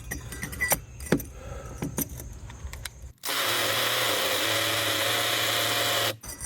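A power drill bores a new hole while routing a mini-split line set, the bit nearly through. Scattered clicks and rattles come first, then about three seconds of steady, loud, close drilling before it cuts off.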